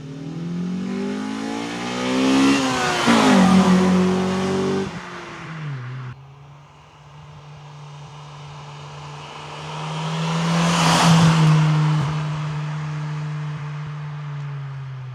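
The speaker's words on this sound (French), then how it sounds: "pour que vous ayez le son de la voiture pendant qu'elle roule" A Honda Civic EK4 with an aftermarket exhaust revs up and down through two loud acceleration passes while driving, a deep rumbling exhaust note rising in pitch, with a brief shift between them.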